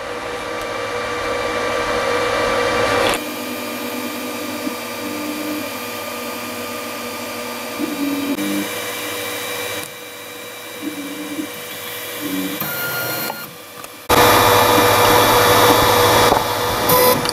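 A TwoTrees SK1 3D printer runs its heated-bed calibration, giving a steady close whirring hum with shifting motor tones and brief stepping changes, then a louder stretch of fan and motor noise near the end.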